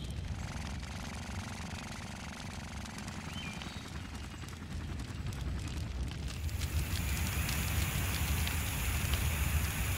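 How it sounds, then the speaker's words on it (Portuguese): A spreading forest fire in a cartoon, a continuous dense crackling roar that grows louder and fuller partway through. "O fogo só está aumentando."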